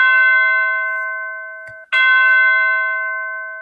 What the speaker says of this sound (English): Some people, these are called bells, tubular bells.